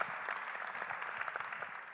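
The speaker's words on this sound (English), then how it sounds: "That deserves a round of applause." Audience applause at a city mayors' summit on climate action, a steady continuous wash of clapping from a crowd heard throughout at moderate level, with no talk over it.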